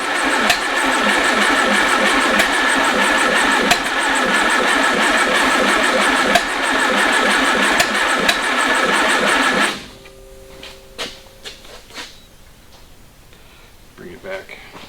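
A Go Devil boat motor, jump-started with cables from a Jeep, roars loudly and evenly for about ten seconds before cutting out abruptly, leaving a few faint knocks and brief voices afterward.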